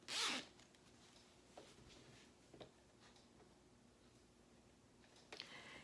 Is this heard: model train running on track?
no